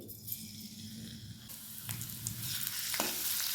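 Crushed garlic frying in hot oil in a kadhai, a continuous sizzle that builds slightly over time, with a few scraping stirs.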